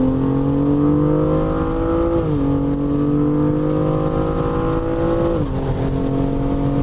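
A BMW M235i xDrive accelerating on the road, heard from inside as a loud, steady engine drone that climbs in pitch through each gear, with two brief dips at the shifts.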